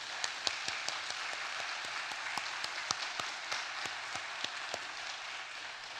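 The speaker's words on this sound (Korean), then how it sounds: "우리 선교사님을 위해서 박수 한번 쳐야죠" A church congregation claps during a Sunday praise service, honoring a visiting missionary: dense, steady applause fills the whole stretch at an even, moderate level with no talking.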